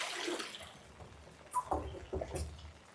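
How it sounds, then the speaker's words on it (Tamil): Collected rainwater trickles and splashes as it filters into a can, an uneven watery gurgle with a few brief louder gushes. "தண்ணி ஃபில்டர் ஆகிறதுக்கு அவ்வளோ இதாகுது பாருங்கள்"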